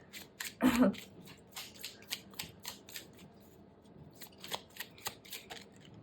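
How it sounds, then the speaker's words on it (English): A tarot deck gets a short burst of riffling, then a run of crisp, evenly spaced card snaps and flicks as one card is drawn, close and quiet. "I'm going to pull one more card."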